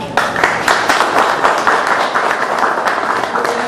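Lively audience applause at a Dominican solidarity event for Cuba, loud, sustained clapping with distinct individual claps standing out near the front.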